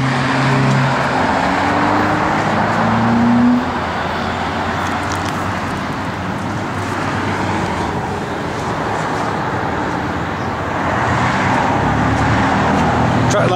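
A 1972 Chevrolet C10 pickup with a muffler idles and rumbles in a steady, close, low engine drone, its pitch rising briefly early on before settling into an even hum.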